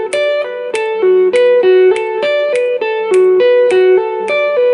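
Electric guitar picks a pentatonic scale phrase in 7, clean, bright single notes in a fast repeating pattern, loud and close with a slight effects shimmer.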